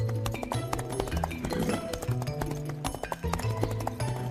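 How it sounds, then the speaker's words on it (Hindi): Cartoon horses' hooves clip-clop steadily as a gang arrives on horseback, a loud, close rhythmic trot with music-like tones running underneath. "शमशेर का गिरोह घोड़ों पर मुन्ना वालों के पास आए"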